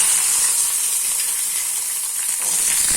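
Shallots and curry leaves sauté in hot oil, giving a loud, continuous bright sizzle and hiss close up, with no talking.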